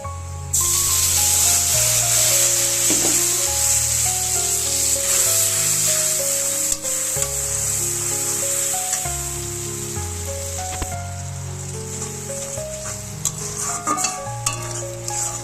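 Ground spice paste hitting hot oil tempered with red chilli and panch phoron, a continuous hissing sizzle running throughout, with occasional utensil knocks and stirring scrapes near the pan.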